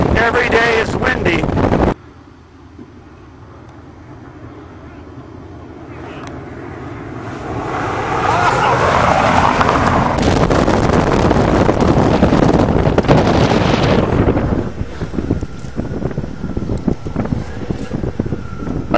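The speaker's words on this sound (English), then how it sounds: "Every day is windy." Strong wind buffets the microphone in a steady roar, briefly dropping, then building and rushing continuously, with faint voices occasionally underneath.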